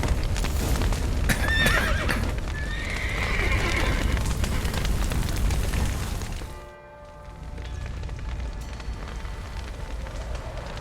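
Horses whinny and snort amid clip-clopping hooves and crackling noise in The Witcher 3: Wild Hunt, then a brief lull before a busy, rumbling scene resumes.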